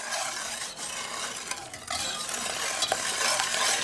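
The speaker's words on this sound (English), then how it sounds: "our whole milk while we continue to whisk" Whisking whole milk into a homemade chocolate pudding mixture, with a steady, close scraping and stirring that continues unbroken for a few seconds and no voices.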